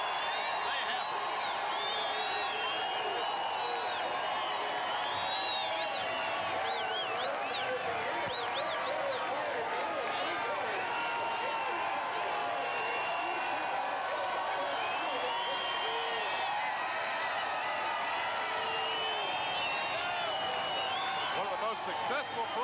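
Fans at a high school football game between the Hampton Crabbers and E.C. Glass Hilltoppers cheer loudly and without pause, a thick roar of voices, whoops and clapping that swells and holds throughout, with speech mixed into the din.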